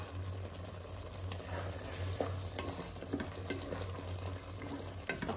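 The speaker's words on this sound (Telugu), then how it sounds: "ఒకసారి కలుపుకోవాలి" Chili, salt and spices are stirred in a pot of sambar with soft scraping and light bubbling sizzle, faint and continuous, over a low steady hum, with no voices.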